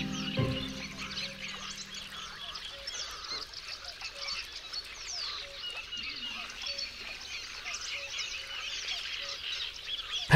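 Shelducks honk and call across a wetland, a chorus of repeated nasal notes at moderate distance over a soft background of other birds, with one sharper call close by near the start.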